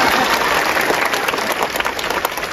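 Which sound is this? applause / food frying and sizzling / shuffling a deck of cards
applause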